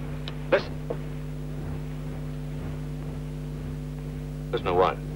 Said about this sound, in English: Them engines. Don't they sound good?